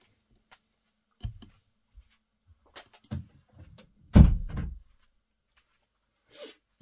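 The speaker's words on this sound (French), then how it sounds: "je vais fermer la porte" A door being closed indoors, with scattered soft clicks and knocks leading to a firmer thud and rattle, then quiet with a faint later tap.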